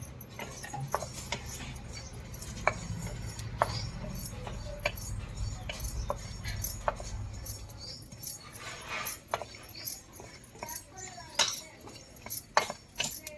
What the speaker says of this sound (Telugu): కొన్ని ధనియాలు వేసుకుంటున్నా వేయించుకుందాం